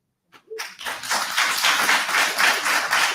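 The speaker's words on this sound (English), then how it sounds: "we're not going to clap after comments, please" At a school committee meeting, an audience breaks into applause after a public comment: scattered claps build quickly into steady clapping that continues evenly until the end.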